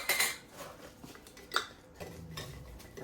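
Cooked beef pieces go into a regular glass mason jar with clinks and knocks of meat and glass, a sharp tap near the middle and duller bumps and shuffling after, close up with no talking.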